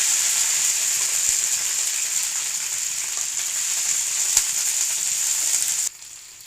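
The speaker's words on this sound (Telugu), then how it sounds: "ఆయిల్ హీట్ అయిన తర్వాత బెండకాయలను మీడియం సైజులో కట్ చేసుకుని వేసుకోవాలి" Cut okra pieces fry in two spoons of hot oil in a kadai, giving a steady, close, loud sizzle that holds evenly for about six seconds before dropping away abruptly.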